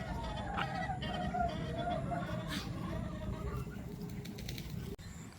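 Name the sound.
chickens clucking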